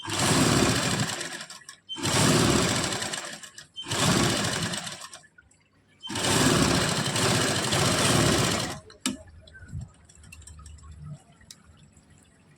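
A domestic sewing machine basting fabric for a hem runs in three long, loud bursts, pauses briefly between them, then falls quiet apart from faint handling clicks and rustles.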